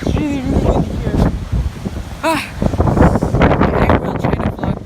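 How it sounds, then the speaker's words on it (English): Strong wind buffets the microphone beside a river with high waves in Baler, Philippines, a loud continuous rumbling roar with gusty swells, mixed with a voice and scattered background noise. "It's really windy here."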